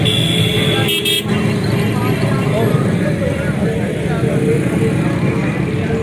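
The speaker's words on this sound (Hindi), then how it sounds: "आप देख रहे हैं रोड के ऊपर काफ़ी ट्रैफिक जाम हुई हुई है।" Traffic jam on a road near a busy goat market at Shahpur Kanjra mandi, a constant loud rumble of engines and motorbikes with a short horn toot early on, and voices talking throughout.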